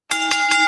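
A single bell, sounded as an alarm in a wrestling-show skit, rings loud and close with a sustained metallic tone and two brief pulses in its level, alone without talk.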